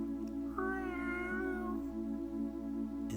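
A kitten named Anthony gives a single clear, drawn-out meow close by, alone over a steady low background hum.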